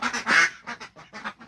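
Sick Muscovy ducklings give a quick run of about six short, nasal quacking calls, close by and fairly loud, with brief pauses between them.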